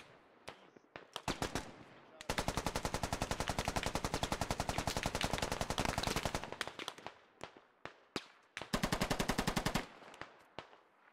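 Machine gun fire in the Squad military video game, several long rapid bursts of loud automatic shots with short single-shot volleys between them, close and dominant with no talking.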